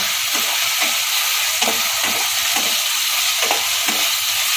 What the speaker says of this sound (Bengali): এবার একটা চামচ আমি ভিনেগার দিয়ে নেব আবার নাড়ব